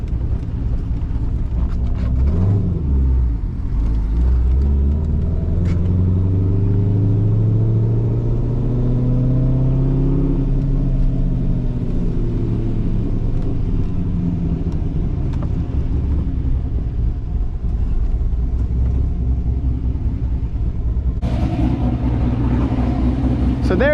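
A cammed C5 Corvette with a 6-speed manual drives in the rain, its deep engine rumble droning steadily from inside the car, rising and falling through gear changes, with occasional speech over it.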